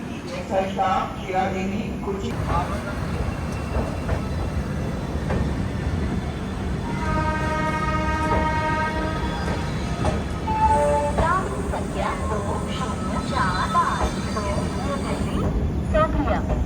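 The Taj Express train pulls out of New Delhi railway station, a steady rumble and rattle of carriages heard from inside, with occasional announcements and people talking.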